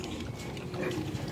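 Pigs on a Vietnamese farm grunt and snuffle softly in a low, continuous jumble, fairly faint and without clear speech.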